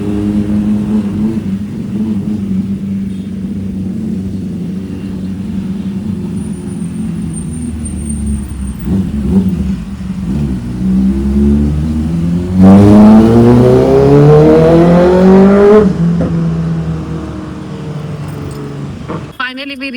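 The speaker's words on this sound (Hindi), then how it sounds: "अभी गाड़ी चलानी पड़ेगी मुझे" A car engine drones steadily from inside the vehicle, rising into a clear revving acceleration with gear-like pitch sweeps partway through, loud and close, mixed with road rumble.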